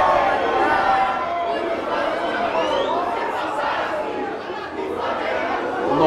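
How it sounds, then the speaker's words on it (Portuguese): A stadium crowd of Flamengo football fans sings the club anthem together, a dense, loud, continuous wash of many voices with no single speaker standing out. "Torcida canta o hino do Flamengo"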